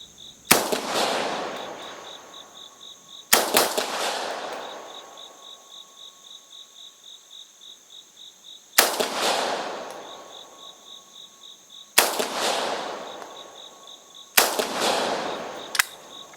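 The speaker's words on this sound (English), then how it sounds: "I'm going to try shooting 30 rounds offhand at it," A Bulgarian AK-74 rifle fires 7N6 rounds offhand at a range: five loud, crisp shots at uneven intervals, each with a ringing echo tail, while insects chirp steadily in the background.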